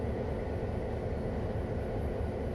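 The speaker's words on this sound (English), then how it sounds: "as soon as this train passes, before we start moving" A long freight train rolls past in a train simulator game, a steady, loud rumble of wheels and cars that carries on evenly with no break.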